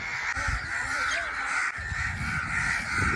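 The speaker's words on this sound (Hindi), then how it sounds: "ये कौवे पता नहीं क्या कर रहे हैं" Several crows caw repeatedly from a neem tree, harsh calls overlapping at moderate distance against a steady background hiss.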